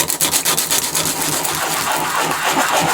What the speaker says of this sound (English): So I've got a piece of scrap mahogany here. We'll just make some sawdust.